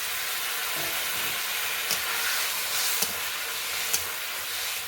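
Spice masala frying in a pan for a village-style desi chicken curry, splashed with the water used to rinse the grinding stone and stirred, gives a steady close sizzle with a few sharp clicks of the stirring spoon.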